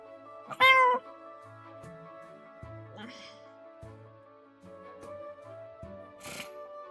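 A black cat gives one loud, sharp meow near the start, followed by a voice talking calmly at a moderate level.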